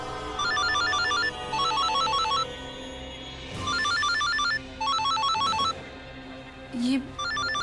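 A telephone ringing indoors: repeated bursts of a bright electronic ringtone with short pauses between them, moderately loud, and a brief voice or noise breaking in near the end.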